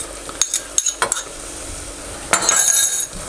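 A spoon stirs saffron into seafood risotto in a pan, giving a few scraping clinks against the metal, then a longer louder scrape toward the end, faint sizzle beneath.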